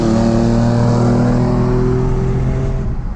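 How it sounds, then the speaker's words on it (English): A lifted Ford Ranger with an exhaust leak accelerates nearby, its engine note climbing in steady tonal harmonics, loud and continuous before easing off at the end, with no voices. "You can tell from that acceleration right there, Jordan has an exhaust leak."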